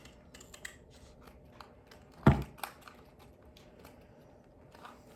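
Scissors snip through paper in a few short crisp cuts, with one louder close snap among quieter clicks, the scissors being used to shape a paper model.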